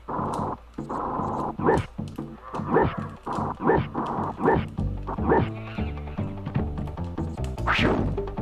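Game dog barking in The Lost Vikings 2, a run of repeated short yelps and thwacks over layered game music, fairly loud and steady throughout.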